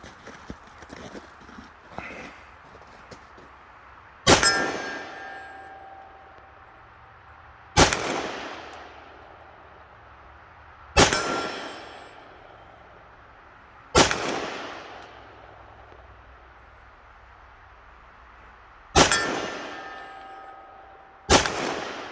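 Six loud, sharp gunshots from a custom Sig P320 pistol firing .357 rounds, spaced a few seconds apart outdoors, each with a ringing decay, with faint talk and rustling before the first shot.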